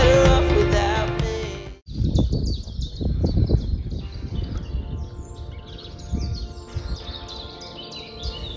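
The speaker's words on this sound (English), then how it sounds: "One of the moments what makes any outdoor trip worth it, just listening to the birds." Birds sing and chirp along a mountain bike trail, busy overlapping calls after a brief noisy start, fairly close and steady.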